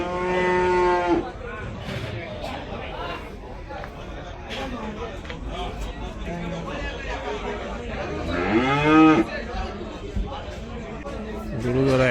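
Cattle low loudly at a crowded Eid cattle market at Gabtoli in the rain, with long harmonic moos at the start and again midway, over constant crowd chatter and nearby voices.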